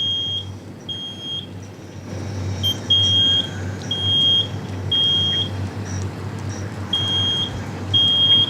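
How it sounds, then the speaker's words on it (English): A home smoke alarm chirps in steady, evenly spaced beeps over a low rumble of idling fire engines outdoors during a live home fire sprinkler demonstration. "we're not trying to talk over the smoke alarm"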